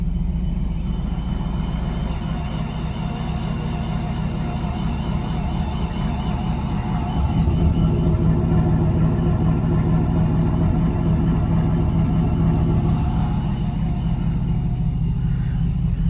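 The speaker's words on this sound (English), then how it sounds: "While this thing's warming up, I'll let you listen to it for a sec." A boosted Hemi V8 warming up after a cold start, a steady low rumbling idle heard up close that grows slightly louder and fuller about halfway through, with no talking.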